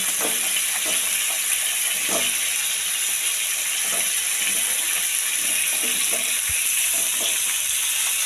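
Papaya and other vegetables fry in a pan for a Bengali prawn and banana-flower ghonto, giving a steady, close sizzling hiss with occasional soft stirring knocks throughout.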